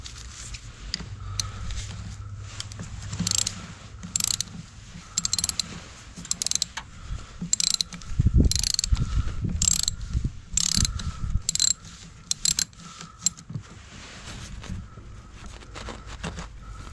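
A 10 mm ratchet wrench clicks steadily as it loosens the battery terminal on a Dodge Grand Caravan, close and fairly loud, in repeated runs of rapid pawl ticks with brief pauses and some clunks of metal in between.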